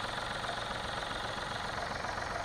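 A Mahindra KUV100 engine idling with slight vibration, a low steady rumbling hum with a faint rhythmic knock, continuous and moderately quiet.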